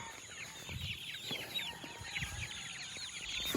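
Chickens and chicks at feeding time, a steady mix of clucking and high peeping from many birds close by, with constant background chatter from the flock and no talk.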